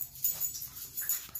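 Dog whimpering softly in short, breathy whines and faint yips, close and quiet, lasting about a second.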